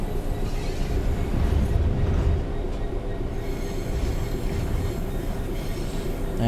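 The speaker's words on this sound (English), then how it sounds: "There's the train we've been following" A Rail Head Treatment train runs on the Birmingham Cross City line in a train driving video game, with a loud, steady rolling rumble and wheel squeal sustained throughout, and no talk.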